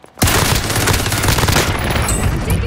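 Dense, rapid automatic gunfire in Call of Duty: Modern Warfare bursts in loud and close after a brief silence, sustained as a continuous fusillade with sharp overlapping reports.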